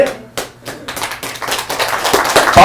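Audience clapping at a Buddhist Seon center opening ceremony, starting as a few scattered claps and building into denser, louder clapping from a nearby crowd.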